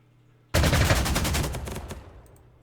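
Fighter aircraft strafing gunfire in the Panzer Corps 2 strategy game: a sudden loud burst of rapid-fire shots, a dense rattling volley that fades over about a second and a half.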